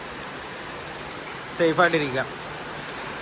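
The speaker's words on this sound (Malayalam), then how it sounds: "മഴ ഭയങ്കര ശക്തമാകുകയാണ്." Heavy rain pours as a steady, even hiss filling the whole scene, with a person talking over it for a few seconds midway.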